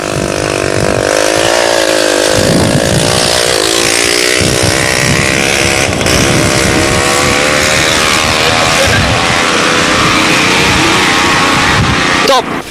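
Motocross motorcycles race at a 1985 event, their engines buzzing loud and close in rising and falling waves as riders pass, with a narrator speaking over the racket throughout.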